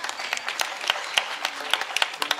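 An audience at a Navratri festival kirtan claps in scattered, irregular beats over a low murmur, a few sharp distinct claps standing out rather than a dense ovation.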